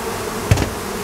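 Bees from two late wild swarms hum steadily around a hive in warm, windless weather, with a brief soft knock partway through the short stretch of buzzing.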